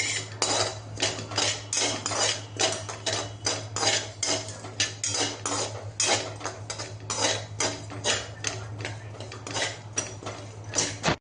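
Dry caraway seeds (shahjira) roasting in a pan over a high gas flame, with quick repeated scrapes and clinks of a metal spoon against the pan over a low steady hum, close and continuous, no talk.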